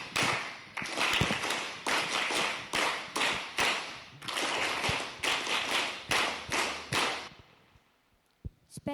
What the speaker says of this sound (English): Special clap followed by students falling in a line go to class.